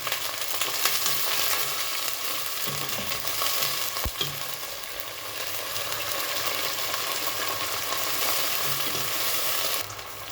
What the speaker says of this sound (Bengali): এই তেলের সাথে মশলার সাথে মানে ভেজে নেব আলুগুলো